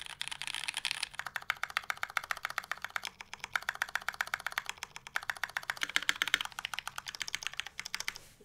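Continuous fast typing on a black polycarbonate Think6.5 keyboard fitted with lubed Cherry MX Brown switches, giving a dense, even stream of close, muted key clacks with no speech.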